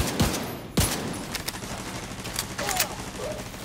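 An automatic turret in The Division 2 fires bursts of gunfire at moderate distance, with a few sharp shots standing out over a steady backdrop of game noise.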